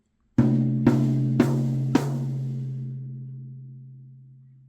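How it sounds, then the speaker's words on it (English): Four sharp hits on a drum with a coated Remo Renaissance Emperor head over a regular Ambassador bottom head and 9-ply poplar shell, in a quick even row, each ringing with a deep, sustained tone that slowly fades. "one of my favorite heads, the Remo Renaissance Emperor."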